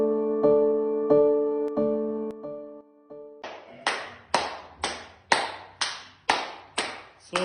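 Hands clap as a shoulder exercise, about nine sharp, evenly spaced claps in a steady rhythm, loud and close. Several ringing, bell-like tones come first.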